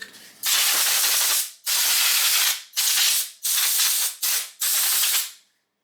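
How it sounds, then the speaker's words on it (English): Compressed-air dust cleaner is sprayed into an embroidery machine in six close, loud hissing bursts, each about a second long, separated by brief silences. "I am going to take my dust cleaner."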